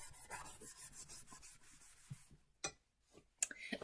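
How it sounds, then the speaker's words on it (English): Wax is rubbed by hand onto a sanded wooden surface in quiet, close, rhythmic scrubbing strokes, fading to a few soft scuffs and taps near the end. "Get some wax on there, and I'm rubbing."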